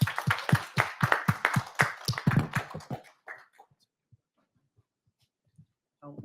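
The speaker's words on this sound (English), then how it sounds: "Another round of applause." Audience at a UK healthcare Tableau user group meeting giving a short round of applause, a few seconds of close, scattered clapping that stops abruptly, followed by near silence and faint movement.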